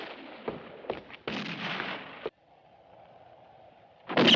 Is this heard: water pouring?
no